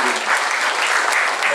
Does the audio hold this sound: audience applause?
yes